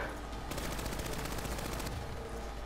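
Gunfire in Call of Duty Black Ops 3 Dead Ops, a rapid close burst of automatic shots lasting over a second amid dense, loud game noise.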